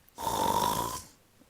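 A voice imitates a hungry wolf snoring loudly, giving one single drawn-out rasping snore of about a second, close and alone.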